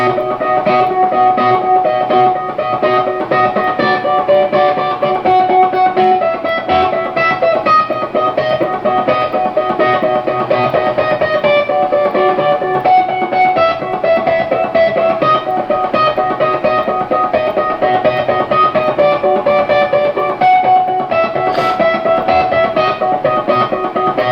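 An electric guitar plays the opening riff of a song with hybrid picking, pick and finger together, a steady, moderately loud repeating pattern sustained for over twenty seconds without any voices.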